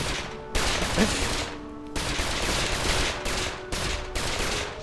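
Dense rapid gunfire from the video game LittleBigPlanet 2 rattles in sustained loud bursts, cutting off briefly and restarting several times.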